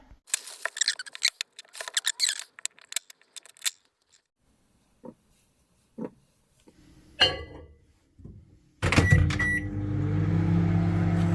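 A microwave oven starts with a click and then hums steadily at close range, its drone continuing after a few earlier scattered clicks and rustles.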